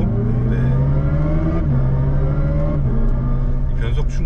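A Hyundai Ioniq 5 N plays its virtual engine sound through N e-shift gear changes, a loud droning engine-like tone that rises in pitch, then drops sharply at each simulated shift, with talk running over it.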